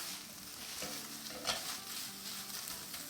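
Sandwich filling roasting in a pan until dry, a low steady sizzle with soft scraping stirs and one brief clatter near the middle.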